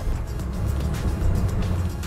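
A Datsun Go with a CVT automatic revs steadily under hard acceleration, a loud, sustained engine drone with road and wind noise and no speech.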